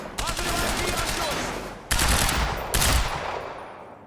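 Rapid automatic gunfire from a fast weapon in Quantum Break, a continuous rattling burst followed by two more short loud volleys, close and forceful.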